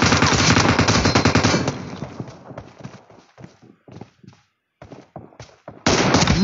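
Rapid automatic gunfire in the PUBG battle royale game crackles in dense, loud bursts that thin into scattered single shots and then resume in a heavy volley.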